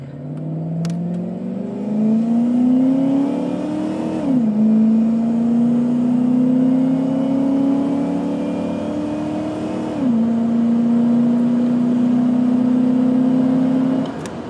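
A 1991-1996 Dodge Dakota RT pickup truck's engine pulls loud and close, its pitch climbing steadily through several gears with two distinct drops at the shifts, heard alone with no talking.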